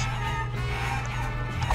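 Chickens in the video game Guacamelee! cluck in a steady, busy stream over a constant low game hum, fairly loud and close, with no talking.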